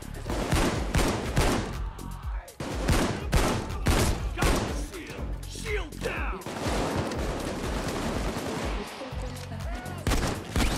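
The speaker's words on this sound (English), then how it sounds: "I'm gonna use my street sweep just to stun them so we can run past them" Rapid bursts of street sweeper shotgun fire in Payday 2, many loud booming shots in quick irregular succession over about eleven seconds, mixed with other gunfire and muffled game voices.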